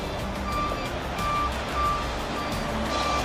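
A tow truck backing under a car sounds its reversing alarm, a regular series of high beeps repeating about every half second over a low engine idle, with no talk.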